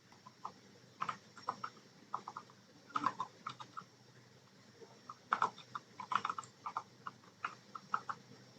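Python code for a Leetcode dynamic-programming problem is typed on a computer keyboard, an irregular run of close, crisp key clicks in short bursts with brief pauses.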